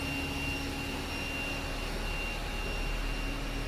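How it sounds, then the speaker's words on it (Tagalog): Robot vacuum cleaner runs in a steady, even whir with a faint high tonal whine, continuous and close, with no talk. "Ang galing nitong si robot vacuum."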